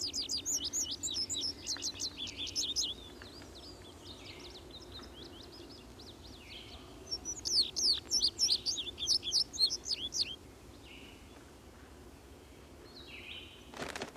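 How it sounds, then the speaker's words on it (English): A bunting sings in a meadow, two bursts of rapid high chirping phrases separated by a quiet stretch, clear over a faint low background hum. "the song of the bunting can be heard in meadows throughout the day"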